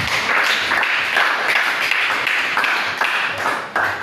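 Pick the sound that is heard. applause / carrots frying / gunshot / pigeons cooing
applause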